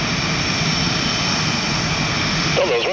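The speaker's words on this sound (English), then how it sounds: "Cleared for takeoff." Blue Angels jet aircraft roar loudly and steadily at takeoff, a constant close engine drone with a whining tone rising slightly near the end and no clear talk.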